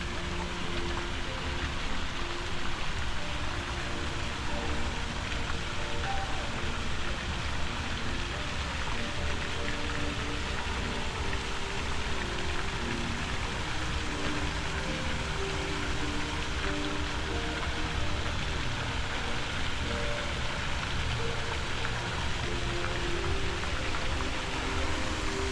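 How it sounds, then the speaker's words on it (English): Steady rain falls across Central Park in New York City, a dense, even hiss of drops on surfaces that holds without a break for the whole stretch, fairly soft and close. "I want to get out of the rain."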